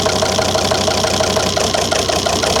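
The diesel engine of a 2003 Volvo XC90 D5 with a misfire and one injector unplugged runs loudly and steadily close by, with a rough, uneven idle and knocking rhythm, and no voices.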